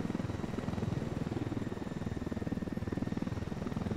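A helicopter flies in the video game Ghost Recon Wildlands, its rotor making a steady, loud, rapid chopping throb with a low rumble that runs unbroken throughout.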